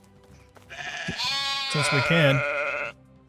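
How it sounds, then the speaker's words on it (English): A sheep bleats in the Medieval Dynasty farm game, a loud wavering call lasting about two seconds while a person talks briefly before it. "Oh, we got lots of room for sheep."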